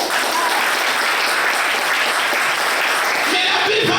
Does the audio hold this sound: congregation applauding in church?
yes